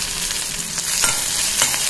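Chopped shallots with curry leaves, asafoetida and spices are tempered in hot oil for a lunch box dish, a loud, close, continuous sizzle and crackle as they are stirred in the pan.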